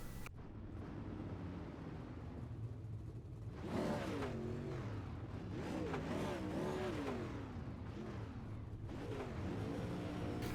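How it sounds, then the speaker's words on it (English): Dirt track race cars roll onto the racetrack for a B-Main, engines rumbling and revving in overlapping waves that swell and pass, loud and continuous with no talking. "B-Main number 2 cars starting to take to the racetrack"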